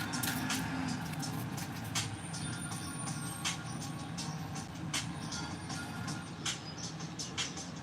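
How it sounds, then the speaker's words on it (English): Mail truck pulling up outside an art studio, a steady distant engine rumble with faint intermittent beeps and clatters over continuous background noise, no talk. "Sounds like the mail truck is here."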